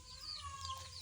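Chickens on a small poultry farm cluck faintly and continuously, with a soft bird call over a low steady background rumble and no talking.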